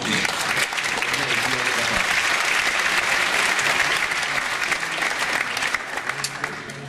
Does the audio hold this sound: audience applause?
yes